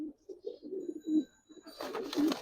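Giribaz hurricane pigeons coo close by in a run of soft, low, rolling calls, with a burst of broader noise and another coo toward the end.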